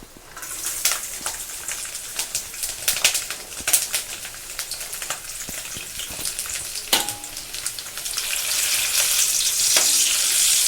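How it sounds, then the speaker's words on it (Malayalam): Ginger and garlic sizzle steadily in hot oil in a pan for a chickpea kadala curry, with occasional stirring clicks; the frying grows louder and denser toward the end, close and without talk. "അതോടൊപ്പം തന്നെ ഇഞ്ചിയും വെളുത്തുള്ളിയും ഇടാം."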